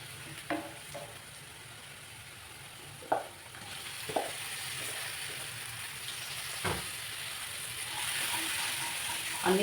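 Ingredients for chicken curry frying in a pan, with a steady soft sizzle running throughout and a few scattered clinks of a spoon stirring, close, with no talking.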